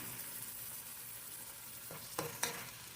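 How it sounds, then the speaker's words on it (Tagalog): Tomatoes sizzle quietly in a pan over medium heat, a soft frying hiss broken near the end by a few brief stirring scrapes and clinks. "Sunod ko na itong kamatis. Tomatoes guys. Bring it to medium heat"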